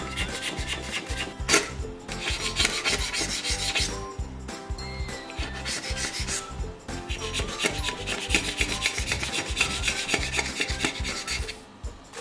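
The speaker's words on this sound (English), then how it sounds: "Always keep your hands behind the blade when you're working with a sharp knife or scraper like this." A sharp knife or scraper scraping excess glue off a glued ceramic bread bin join, giving rapid rasping strokes in a steady back-and-forth rhythm, close and moderately loud, with no talk.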